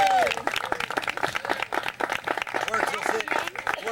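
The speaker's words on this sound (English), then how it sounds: "Round of applause for the musician here" Birthday party guests applauding a musician, a crisp patter of many hands running throughout while voices talk over the clapping.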